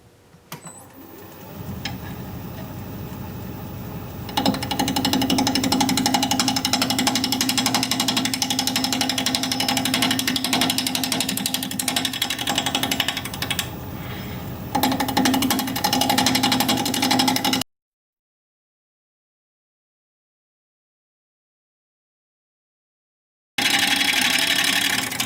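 A wood lathe turns at 700 RPM as a 5/8 inch bowl gouge cuts a bowl, a steady mechanical whir with rough scraping tool noise, broken by a few seconds of dead silence before resuming.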